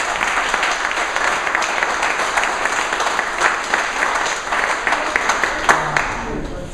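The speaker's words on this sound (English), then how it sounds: "Can we give him a round of applause?" A crowd claps steadily through the whole stretch, dense and fairly loud, at the grand opening of a community center.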